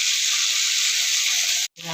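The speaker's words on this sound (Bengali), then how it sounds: "ফুলকপি ভাজা হচ্ছে" Cauliflower frying in a pan for a fish curry, a loud close hiss of sizzling oil that runs steadily and then cuts off abruptly near the end.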